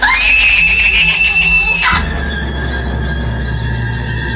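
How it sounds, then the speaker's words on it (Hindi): A woman lets out a loud, high scream in a dramatized Hindi story, a sustained shrill cry that breaks off abruptly, leaving a tense background of noise and music. "वो जोर से चीखी और कमरे से दौड़ती हुई बाहर भागी"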